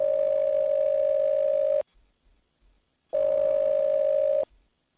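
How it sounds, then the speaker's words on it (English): A phone line gives a ringback tone while an outgoing call is placed, two long steady buzzing tones separated by a quiet gap with faint clicks, no voices. "I'm going to dial her phone number right now."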